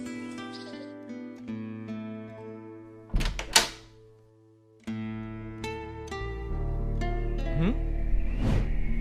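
A door is shut with a couple of solid thunks midway, set against a musical backdrop with a brief voice nearby.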